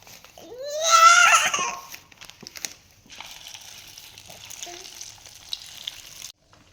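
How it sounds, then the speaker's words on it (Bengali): Egg poured into hot oil in a wok, a soft hissing sizzle that runs for a few seconds and then cuts off, preceded by a brief loud wailing, cry-like voice. "তেল গরম হয়ে গেছে এবার আমি ডিমটা ঢেলে দিচ্ছি"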